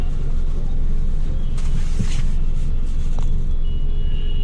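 Road traffic at the Noida stadium intersection rumbles in a dense, continuous roar of passing vehicles, loud and close, with a thin high tone rising near the end.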